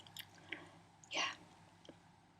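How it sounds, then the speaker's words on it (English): Chewing gum close to the microphone in a quiet whispering setting: a few soft moist smacks and clicks with one louder wet chew in the middle, no speech. "I'm also chewing gum."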